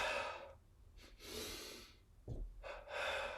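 Quick, forceful breaths drawn in and pushed out during a yoga breathing exercise, double inhales and exhales in a brisk rhythm, close and clear with no talking.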